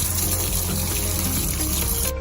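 Water runs steadily from a kitchen faucet in a continuous, close, even rush that cuts off abruptly at the very end.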